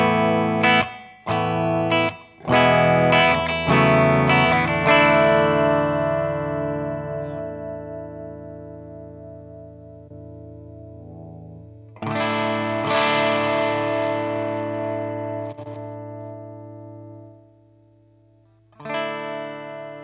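Electric guitar through a DOD Overdrive Plus FX 50B overdrive pedal: a few choppy distorted strums, then a long sustained chord ringing out and decaying, a second chord that fades, and a final stab at the end.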